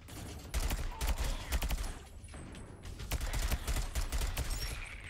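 Gunfire from the first-person shooter tower defense game Sentry crackles in rapid, irregular bursts of shots, fairly close and dense, with a brief lull midway before the firing resumes.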